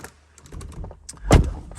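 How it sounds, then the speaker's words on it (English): Door of a Jaguar F-Type V6 swinging shut from inside the cockpit: a few light clicks and rustles, then a single solid thunk near the end, close and fairly loud. "We can close the door"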